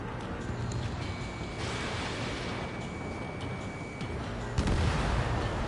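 Sustained cannon fire and explosions bring down a target in the combat flight game Ace Combat 7, a steady, dense roar of gunfire and blasts at moderate loudness that swells near the end.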